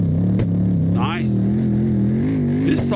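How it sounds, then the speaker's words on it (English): A Mercedes-AMG Black Series car engine in the CarX Drift video game holds a steady, loud drone with slight revving, while someone talks over it throughout. "This sounds like a Black Series right here."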